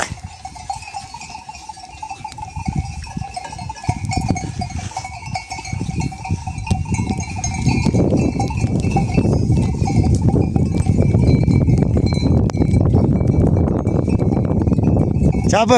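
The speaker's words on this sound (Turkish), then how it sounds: "Koyun söküyor." A flock of sheep pours out of a pen into harsh winter weather, with a dense rumble of hooves and bodies that swells louder midway and continues near and steady, while faint bells and voices sound in the background.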